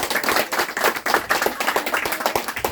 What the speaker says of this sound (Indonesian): Tepuk tangan dulu buat Sandro.